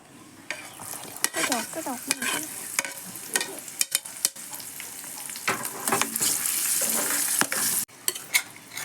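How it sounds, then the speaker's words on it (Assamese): Green chillies fry in hot mustard oil in a wok, with a steady close-up sizzle and repeated stirring scrapes throughout. "এতিয়া মই জলকীয়াখিনি দিম ইয়াত।"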